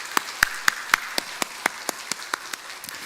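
A church congregation at a Sunday worship service claps in a sparse, slow rhythm, about a dozen distinct claps spaced evenly and heard fairly close, with no talk over them.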